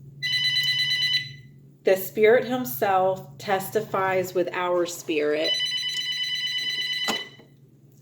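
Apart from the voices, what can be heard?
telephone ringing with incoming call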